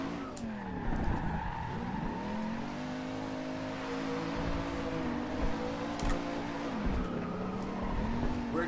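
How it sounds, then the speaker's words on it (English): A car drifting in Forza Horizon 2, its engine droning and rising while tires squeal in long sustained wails that bend in pitch, steady and close throughout. "We're just a drifting machine right now."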